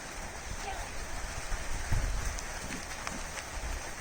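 Rain falls steadily on a homestead as animals are moved through a gate, a constant hiss with scattered thuds and hoof-like clops, while someone talks over it.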